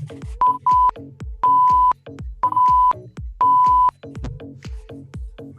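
Workout interval timer during a Tabata session sounds a series of loud electronic beeps, short and long tones in an uneven pattern, over a thumping music beat.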